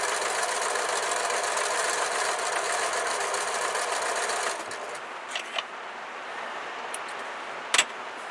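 A sewing machine stitches a quarter-inch patchwork seam with a steady, close mechanical whir that runs for about four and a half seconds and then stops. A few faint clicks and taps follow.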